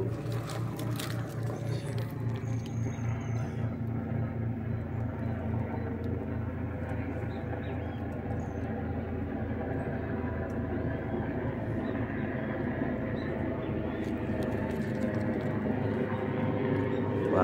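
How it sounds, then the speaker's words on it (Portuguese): Steady low mechanical drone of a helicopter overhead, continuous and fairly loud throughout, with faint outdoor ambience and no talking. "Barulho do helicóptero atrapalhando"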